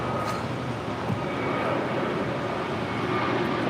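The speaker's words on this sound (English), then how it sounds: "That is Hawaiian Airlines Flight 63 taking off to Lahui on an A321neo." A Hawaiian Airlines A321neo takes off, a broad, steady jet roar heard from a distance, moderately faint and without talk.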